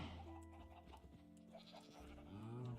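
Goats bleat in the Minecraft multiplayer base, several wavering cries rising and falling over soft background music, the last one louder and drawn out.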